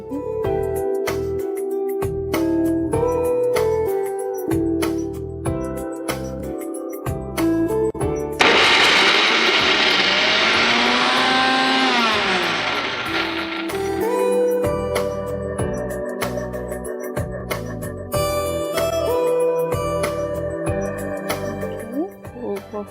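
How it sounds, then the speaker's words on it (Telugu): A mixer grinder blends soaked rajma with green peas and salt in a brief, loud whirring burst of several seconds that rises out of background music, then stops. "మిక్సీ పట్టేసుకున్నాం."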